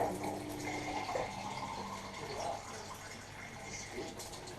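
Cups of water are poured into a cooking pot in a home kitchen while mutton is being cooked, a soft continuous splashing fill that is fairly quiet and close, with no talk over it.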